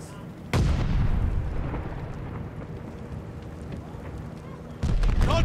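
A heavy explosion booms at a Call of Duty: Vanguard hardpoint, followed by a rumbling, crackling gunfire tail and then a second blast, all loud and close.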